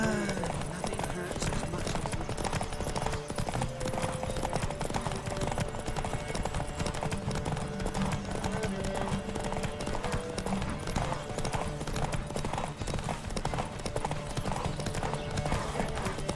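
Rapid clip-clop of several horses galloping without pause in a horse race in The Witcher 3, dense hoofbeats over a steady backdrop with voices talking now and then.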